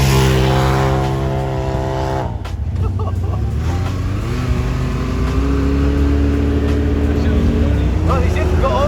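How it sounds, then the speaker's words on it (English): At a JDM car meet, a car engine revs hard and drones steadily as the car spins donuts, with the pitch dipping and then climbing again. The engine is loud and continuous, with voices faintly underneath. "We're literally doing donuts."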